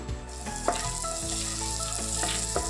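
Butter heating in a pan with boiled vegetables for pasta, a steady close sizzle and crackle with a few sharp pops and stirring taps, no talk.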